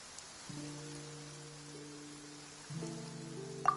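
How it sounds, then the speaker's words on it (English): Rain falling in the Genshin Impact video game, a steady soft hiss running throughout alongside sustained musical tones that start and swell at two points. "It's raining."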